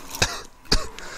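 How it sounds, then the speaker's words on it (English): Two sharp coughs, close and separated by a short pause, from a commentator wearing headphones during a Super Smash Bros. Melee tournament broadcast, with a smaller throaty catch after the second. "I keep trying to not cough because I know I'm wearing headphones."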